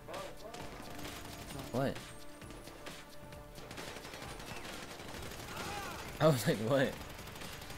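Gunfire in the video game GTA during a heist: a short burst near the start, then a louder cluster of shots later, beneath casual talk from players.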